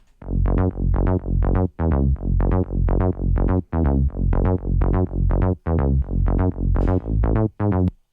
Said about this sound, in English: the main part that gives this bass the groove is the changes between octaves